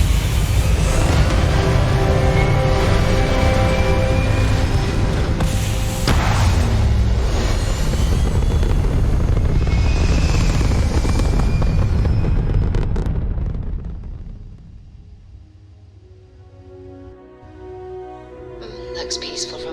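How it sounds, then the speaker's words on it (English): Spaceship thrusters firing in the video game Starfield, a loud, sustained roaring rumble with bursts that fades to a quieter hum, with speech heard over it. "All thrusters firing."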